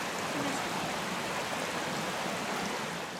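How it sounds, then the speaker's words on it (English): Creek water rushes steadily where two creeks meet at Water's Meet in Tasmania, a constant broadband wash with no breaks, loud and close. "This is where the two creeks meet, hence the name, Water's Meet."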